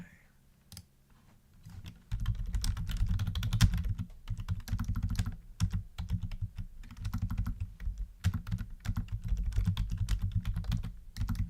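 Typing on a computer keyboard, steady and close, with a dense run of key clicks over a low background rumble after a quiet start.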